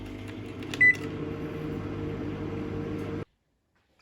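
A microwave oven running on its defrost setting with frozen Greggs vegetable bakes inside, producing a steady low mechanical hum with a brief high beep near the start, then cutting off abruptly into silence.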